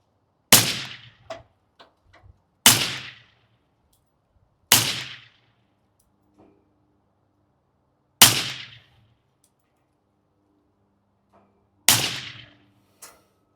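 A Ruger LC Charger pistol firing 28-grain 5.7x28 Elite S4 rounds at a 15-yard target outdoors: five loud, sharp reports spaced several seconds apart, each with a short decaying tail, with faint handling noises between.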